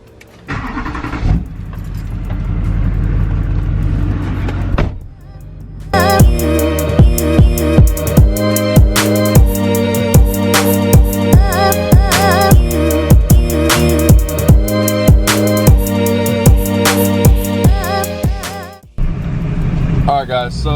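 A cold lifted truck's engine runs steadily while warming up, a loud continuous idle with a rough rhythmic pulse, preceded by a short starting burst and broken by brief pauses.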